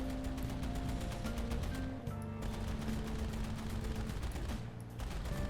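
Aircraft 13.1 mm machine guns and 20 mm cannons fire in War Thunder, rapid continuous bursts over a steady engine drone, with a brief pause partway through.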